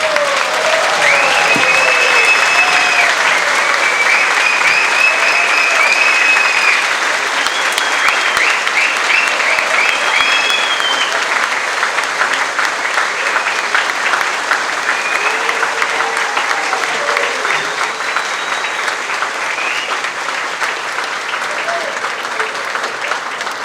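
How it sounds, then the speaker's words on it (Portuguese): A standing plenary audience at a closing assembly applauds steadily and loudly for over twenty seconds, dense continuous clapping with occasional faint whistles and cheers throughout. "E queria pedir que esse plenário, de pé, aplaudisse os 60 anos da Caritas brasileira."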